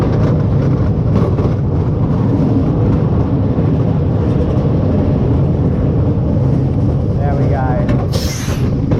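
Roller coaster train at Park Funtastic rumbling steadily along its track, a loud continuous roar with rattling wheels throughout, a voice speaking briefly near the end.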